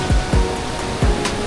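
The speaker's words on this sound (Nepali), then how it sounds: "यो चाहिँ हाम्रो ओयामको ठाडो खोला" Rushing water of the Thado Khola river at Oyam, Panchthar, a steady broadband roar close by, with a few low thumps from wind or handling breaking through.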